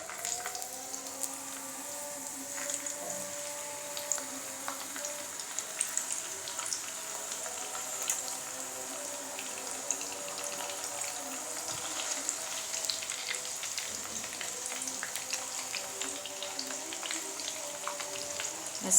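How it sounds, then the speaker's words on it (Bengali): Hilsa fish pieces fry in hot oil, giving a steady, moderate sizzle with a bright crackling hiss that runs unbroken throughout, without any talk. "তেল গরম হয়ে গেছে, এখন এর ভিতরে আমি দিয়ে দিব মাছগুলো খুব ভালোভাবে ভেজে নিতে হবে"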